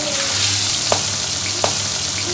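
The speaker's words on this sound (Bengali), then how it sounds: "আর আমি অলরেডি কড়াই বসিয়ে দিয়েছি। তো এবারে তেলটা দিয়ে দেবো।" Oil sizzles in a hot kadai, a steady bright hiss with two sharp pops partway through, close up and with no talking.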